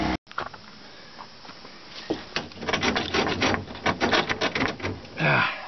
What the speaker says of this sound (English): I've got a hacksaw blade in my hand.